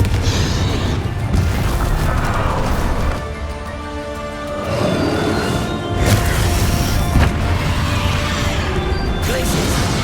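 Confringo fire spell blasts in the Hogwarts Legacy video game, heavy booming crashes with whooshing impacts that repeat across the stretch, loud and dense, with only a short quieter lull in the middle.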